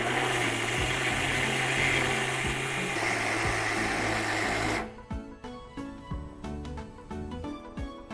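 Kitchen grinder whirring loudly as it grinds hazelnuts and cocoa powder for chocolate bread, a steady high motor whine that cuts off after several seconds, followed by scattered clinks and knocks.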